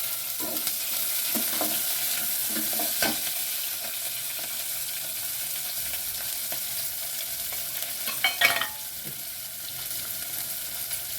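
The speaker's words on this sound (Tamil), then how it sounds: "இப்போ வெங்காயம் போட்டுக்கிறேன்" Onion sizzling in hot oil in a pan with mustard seeds and curry leaves, a steady broad hiss with a few spatula scrapes and a brief louder crackle near the end, no voices.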